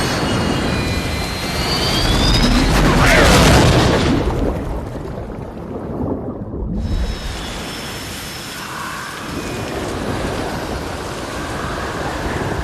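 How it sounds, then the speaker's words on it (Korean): Ocean waves and stormy wind roar at sea after a plane crashes into the water in a film scene, a loud broadband rush that swells, cuts briefly to near silence, then returns as steady surf and rain. "척은 폭우 속에서 보트에 몸을 맡긴 채 바다를 떠돌게 됩니다"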